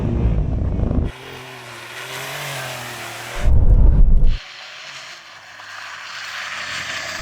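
Porsche 911 Dakar launching off the line in an off-road drag race against another Porsche: a loud engine roar and burst of wind noise, with a harsh loud surge midway, then a steady droning run.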